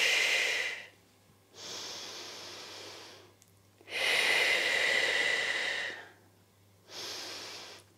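Steady breathing during a Pilates hip exercise: long, airy exhales and inhales alternate in a slow, regular rhythm, close and fairly quiet, with no talking.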